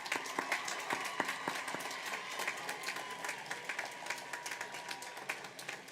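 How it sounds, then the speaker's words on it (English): A graduation audience at the W.F. West 2023 ceremony gives a steady round of applause, dense clapping that rolls on evenly and fairly softly throughout, heard from a distance in a large hall. "Let's give them a round of applause tonight."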